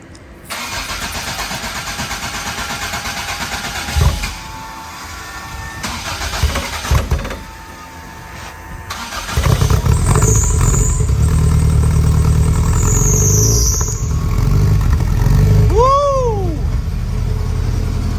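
A Toyota AE86 with a 4A-GE 20V engine cranks and fires, idles roughly, then settles into a loud steady idle with sharp revs rising and falling near the end, on a rural American road.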